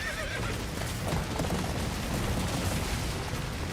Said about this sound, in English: Is this horse okay?